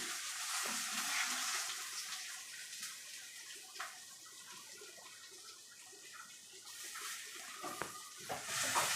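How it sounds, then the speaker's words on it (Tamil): Onions sauté in a pan with a faint, steady sizzle, broken now and then by soft stirring scrapes. "மீதி வெங்காயத்தை இப்போ இதில் போட்டு நல்லா வதக்கிக்கலாம்."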